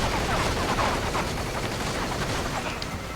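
Dense, continuous gunfire from the video game Metal Gear Rising: Revengeance, a steady wash of rapid shots with no clear breaks, loud and close throughout.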